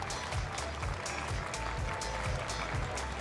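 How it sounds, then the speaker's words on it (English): Steady applause from a crowd at a Teamfight Tactics tournament in Paris, a continuous dense patter of clapping throughout with no pauses. "Applaudissements pour eux,"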